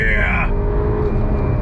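A Ferrari GTC4Lusso T engine drops through gears, a high engine note cutting off abruptly into a lower, rumbling tone, loud and close inside the car, with a voice speaking over it.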